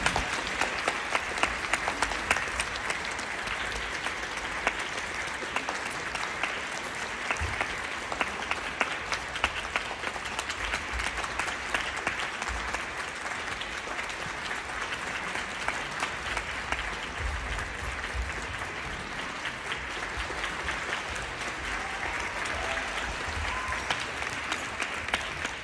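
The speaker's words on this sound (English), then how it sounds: "The music concludes, giving way to the sound of applause." Sustained audience applause after a ballet pas de deux, the Black Swan duet, a dense steady wash of many hands clapping for the whole stretch, full and continuous without talk.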